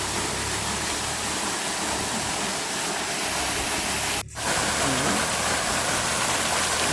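Thumkal waterfall near Pennagaram, Dharmapuri, roars in a steady, loud wash of falling water, with one brief dropout midway before the rushing continues.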